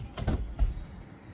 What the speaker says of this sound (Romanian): să deschizi ușa asta